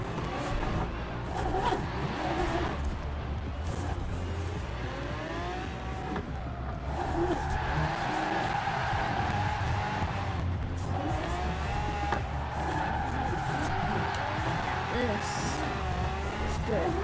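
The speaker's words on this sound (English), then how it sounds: "Sounds like a Lamborghini." High-revving Lamborghini-like engine of an S1-class drift car in the racing video game Forza Horizon, droning steadily and loud throughout with pitch sweeps from shifting and skids, under a person talking.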